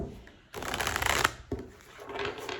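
Templar's Tarot cards riffle-shuffled in two close bursts, a loud crackling flurry followed after a brief pause by a softer, longer run of shuffling, with no voice.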